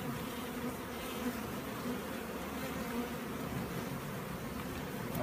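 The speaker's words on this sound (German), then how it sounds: "wenn man so viele Bienen oben drauf hat" Dense, steady buzzing of many honeybees swarming over an open beehive during queen rearing, a continuous close drone with no pauses and no voices.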